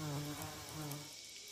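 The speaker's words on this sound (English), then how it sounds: "These bees are all males. They flock to certain orchid species in large numbers." Male orchid bees buzz around orchid flowers, with a close, wavering insect drone that fades after about a second.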